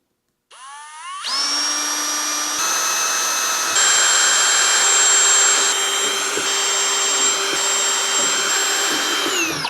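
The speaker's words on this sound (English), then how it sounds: "let's get this little pilot hole in there." A power drill boring a small pilot hole into a carbon fiber dashboard, starting abruptly after a brief silence and then whining loud and steady, with a high sustained tone and a few pitch shifts as the bit cuts through.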